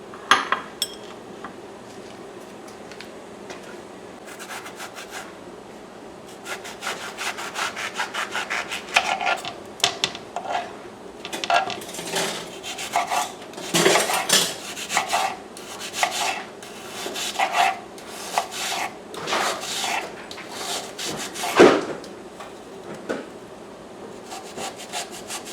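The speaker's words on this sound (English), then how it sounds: "I am chopping up some onion" A knife chops onion on a cutting board in a home kitchen, tapping in an uneven run of quick sharp strokes that grow denser midway, loud and near with no talk.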